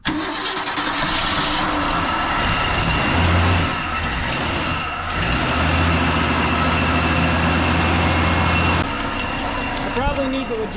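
A 1978 Mercury Z-7 engine idling with the driver's foot off the gas, a continuous steady drone with a slight uneven hum, loud and close.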